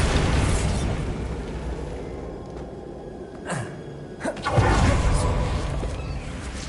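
The Bombarda explosion spell in Hogwarts Legacy, a booming blast with crackling debris over steady game ambience, followed by a second burst and a louder rumbling swell near the end.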